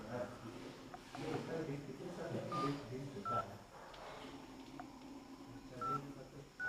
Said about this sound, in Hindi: डायल किया और 3 बार कॉल करेंगे